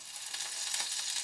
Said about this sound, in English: now I just need to cook them off. I find for my frying pan, a quarter cup is a really good measure.